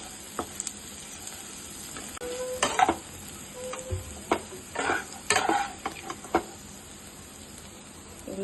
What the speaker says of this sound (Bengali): এখানে এই যে কড়াইশুঁটি, গাজর, সবজি সব ফ্রাই চলছে, ভাজা চলছে আর কি